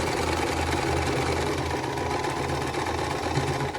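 A sewing machine stitching a quarter-inch seam on a vintage-style quilt block runs in a steady, continuous mechanical whir with a low rhythmic pulse. It is close and fairly loud, with no talking.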